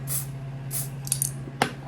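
Face primer spray is misted from a bottle in a few short hissy bursts, close and fairly soft, over a steady low background hum, followed by a sharper click near the end.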